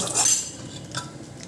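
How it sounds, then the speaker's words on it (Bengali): Fried vegetables being stirred into a curry in a pan, with a short burst of utensil scraping and clinking against the pan, close and fairly quiet, with no voices. "তরকারিটা এবার ভাজা সবজিগুলো দিয়ে কষিয়ে নিচ্ছি"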